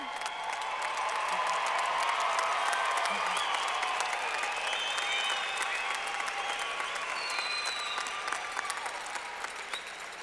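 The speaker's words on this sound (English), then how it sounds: "Please join me once more now in applauding all of our graduates." A large audience at a university fall commencement applauds the graduates, a dense, sustained roar of clapping filling a big hall with some faint cheering and voices mixed in.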